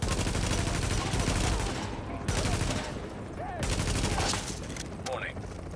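Enemy machine gun fire in The Division, a dense wash of bursts and impacts running through the whole stretch with short breaks, close and loud, with some game voice mixed in.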